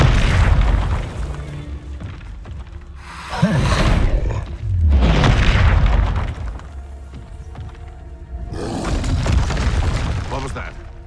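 Confringo blast spells explode in Hogwarts Legacy, making loud, rumbling booms in several separate bursts, some lasting over a second, with a voice speaking between them.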